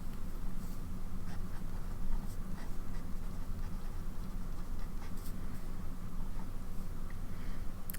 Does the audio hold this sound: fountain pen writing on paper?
yes